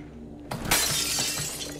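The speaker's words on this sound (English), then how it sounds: "Glass is broken." In the video game Hello Neighbor 2, glass shatters with a sudden crash, followed by a clatter of shards falling and tinkling for about a second, fairly close and with no talk over it.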